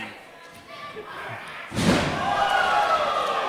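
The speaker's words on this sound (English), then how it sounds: "the cutter coming through the ropes for that little bit of added momentum" A heavy thud rings out as a wrestler, hit with a cutter coming off the ropes, slams onto the mat, under steady commentary and arena ambience.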